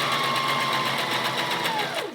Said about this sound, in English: Let's go do that on my sewing machine.